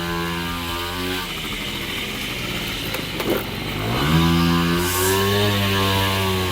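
Honda XR Baja motorcycle engine running while ridden, loud and close, with a steady drone that dips briefly then rises again as the rider picks up speed.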